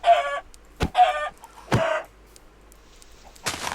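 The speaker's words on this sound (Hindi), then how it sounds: "मुर्गियाँ कई सारी दिख रही हैं, खाने का इंतजाम कर लेते हैं इनसे" Minecraft chickens clucking in a video game, three short repeated clucks spaced about a second apart, clear and close, followed by a brief rustling burst at the end.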